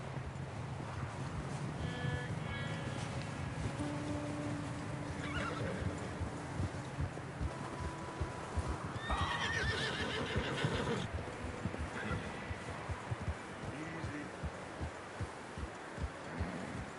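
Horses in Red Dead Redemption 2 whinny repeatedly over a steady, close clip-clop of hooves, with neighs rising clearly above the rhythmic trotting and a low rumbling ambience beneath.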